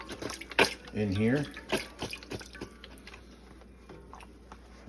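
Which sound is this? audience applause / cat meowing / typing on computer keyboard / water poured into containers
water poured into containers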